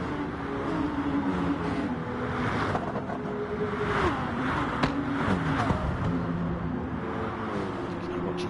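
Gr3 race cars in Gran Turismo roar around Dragon Trail Gardens, their engines droning and shifting pitch steadily throughout under a commentator's voice.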